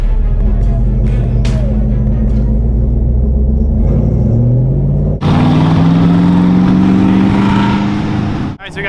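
Race cars running a pace lap on the Charlotte Roval, a steady loud engine rumble with rising revs and a sharper engine note joining midway, heard under ongoing talk.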